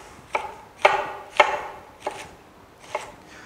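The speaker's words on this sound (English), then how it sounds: "And then I'm going to rough chop some of this." A knife rough chops lobster on a cutting board, five distinct crisp thuds spaced unevenly about half a second apart, close and clear over a quiet room with no talk.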